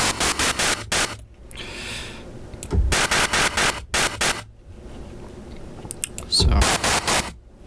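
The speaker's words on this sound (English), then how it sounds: "So instead of just standard white noise, you have a little bit of a pitch to it." Synthesized white noise shaped with a pitched oscillator in a studio synth patch, heard as short repeated bursts of bright hissing noise with a faint tonal edge, some low thumps between, and quieter gaps.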